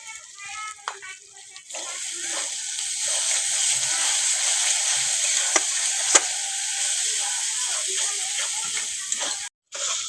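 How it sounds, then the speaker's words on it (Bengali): A spice paste with yogurt and coriander powder frying in a pan, a continuous loud hiss of sizzling with occasional stirring clinks, close by, cutting off briefly near the end. "মশলাটা কষানো হয়ে গেছে"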